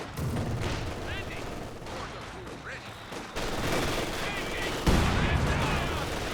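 Company of Heroes 2 battle with mortar blasts and scattered gunfire, dense overlapping bursts and a heavier boom near the end, mixed with faint voices.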